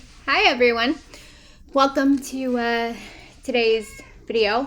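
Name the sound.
cat meowing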